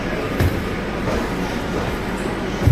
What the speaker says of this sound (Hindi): ये मेट्रो आ चुकी है। ये आ गई, देख के बैठना पड़ेगा।